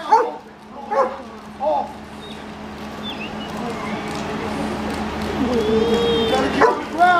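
A police dog at a California Highway Patrol substation in Mojave barks in a few sharp bursts near the start, then whimpers under a handler's loud commands and crowd noise outdoors.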